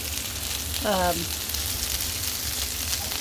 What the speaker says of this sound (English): just let it sizzle until it kind of browns up